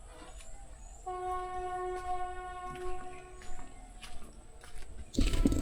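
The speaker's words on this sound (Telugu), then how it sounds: "ఆ వినిపించే ట్రైన్ సౌండ్, ఈ పక్కన బొడ్డవర ఇది ఉందన్నమాట రైల్వే స్టేషన్." A distant train sounds a long horn near a forest railway station, faint and sustained over quiet outdoor ambience, with louder rumbling noise rising at the very end.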